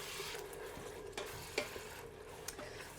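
Meat browning in a pot with pepper, stirred with a utensil: a soft, steady sizzle with several scraping and clinking stirring strokes, fairly quiet, no talk.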